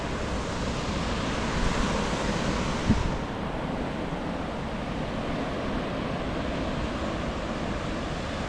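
Ocean waves along the Big Sur coast where surfers are out, a steady distant surf wash with a soft swell near the start, no voices.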